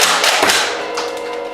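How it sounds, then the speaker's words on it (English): A Nerf Modulus Tri-Strike blaster slam-firing foam darts gives a quick burst of loud, close thumps and taps in rapid succession, fading into a short ringing tail. "we'll do the last 4 shots in slam fire"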